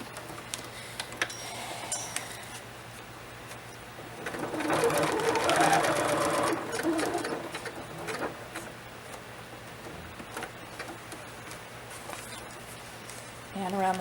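Sewing machine stitching slowly through a vinyl zipper bag, a soft, steady mechanical whir and patter that swells briefly in the middle and then eases back.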